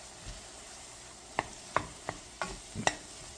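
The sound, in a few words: sauteing chopped onions and mushrooms in a saucepan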